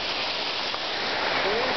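Bonita Falls waterfall rushing as a steady, dense broadband roar that fills the whole moment without a break, close and constant, with no clear speech over it.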